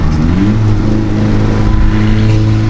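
Straight-piped Volkswagen GTI with a 3-inch downpipe roars loudly and close, a deep steady engine drone building under revs with no break.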